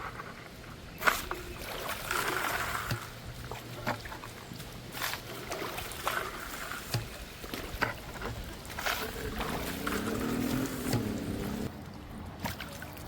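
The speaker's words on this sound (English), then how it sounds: "So while we're panning out pan number 3, let me go ahead and tell you a little bit about this pan." Water sloshing and trickling in a gold pan as it is swirled while panning for gold at a surface dig in Pennsylvania, with irregular splashes and soft scraping throughout, fairly close, with no talk.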